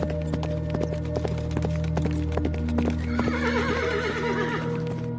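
A horse cart heading toward a forest, with brisk, steady clip-clop hoofbeats close by and a loud horse neigh rising over them partway through.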